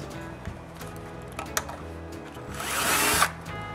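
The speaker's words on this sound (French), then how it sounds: "puis percer ces trous pilotes" Power drill boring pilot holes in a wooden frame in a workshop, heard as a steady low whir with a few sharp ticks, swelling into a louder, brighter burst near the end.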